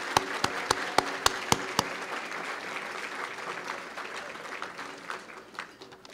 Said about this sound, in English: Let's give Sister Jaffe another well-deserved round of applause.